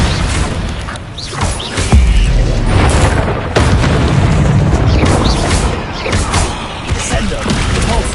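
Heavy booming spell blasts from Confringo and Bombarda in Hogwarts Legacy hit repeatedly in a dense, loud stream of impacts and crashes, with a voice calling out over them.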